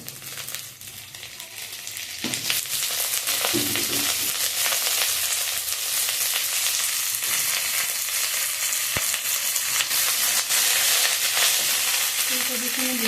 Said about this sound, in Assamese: ইয়াতে মই প্ৰথমতে ফুলকবিখিনি দিওঁ।